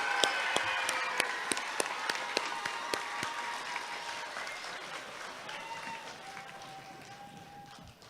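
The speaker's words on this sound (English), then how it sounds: "Can we give our singers another round of applause" A school ceremony audience applauds the singers, a dense burst of clapping at the start that gradually fades and thins toward the end, with a few sharp individual claps and faint voices.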